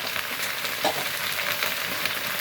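Chopped onion dropped into hot oil with water spinach in a pan for a Bengali kolmi shak dish, giving a continuous close, even sizzle with a small burst of stirring partway through.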